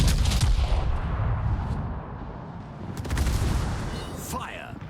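British battleship main guns firing armor-piercing shells in World of Warships, heavy booming salvos with rumbling blasts and lingering battle noise, a voice faintly present.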